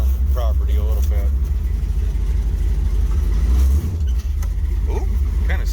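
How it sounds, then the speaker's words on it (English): A 1973 Plymouth Satellite with a 451 stroker engine drives around a property, its steady low engine rumble filling the scene with small swells in revs, and a voice briefly audible over it near the start. "Now let's see what happens when we just drive it around the property a little bit."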